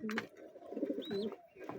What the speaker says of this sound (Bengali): আমার কবুতর মার্শাল্লাহ অনেক সুন্দর হয়েছে